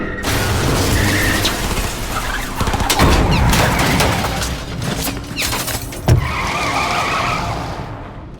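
Car in the video game Cyberpunk 2077 driving off with squealing tyre skids, loud engine roar and a couple of sharp thuds, fading toward the end.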